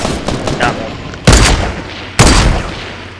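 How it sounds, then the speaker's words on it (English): A grenade launcher fires in the Fortnite video game, with two loud, sharp booming blasts about a second apart over a background of game noise and scattered crackle. "Oh, it's a grenade launcher, not a rocket launcher."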